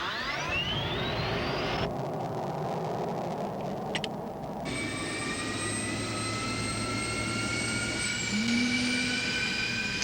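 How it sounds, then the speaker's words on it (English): An F-16C jet engine spins up on its jet fuel starter with a rising, piercing whine that climbs steadily, cuts to a rough roar, then settles into layered high-pitched turbine tones that hold at idle, loud and close with no talk. "We only use one switch to turn on the battery and another switch to start the jet fuel starter."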